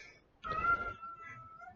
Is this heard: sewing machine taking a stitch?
no